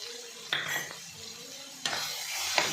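Garam masala and coriander powder get stirred in a sizzling pan for a drumstick gravy, a low frying hiss broken by two or three sharp scrapes of a spoon against metal.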